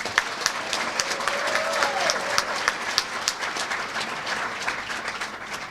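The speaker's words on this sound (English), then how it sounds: "So first thing we should do is a round of applause for the volunteers." A crowd at a senior games and expo event gives the volunteers a round of applause, with dense, sustained clapping throughout at a moderate distance.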